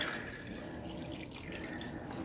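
Cold sauce for cashew chicken is poured over the chicken in a crockpot, making a faint, steady liquid trickle with no talk over it.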